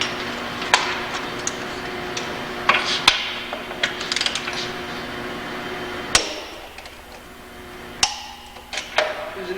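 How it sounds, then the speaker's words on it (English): Metallic clicks and clunks of a torque wrench set to 175 tightening lug nuts on a cast spoke wheel in a shop, sharp intermittent ticks and knocks spaced a second or two apart over faint background hum. "Take our torque wrench."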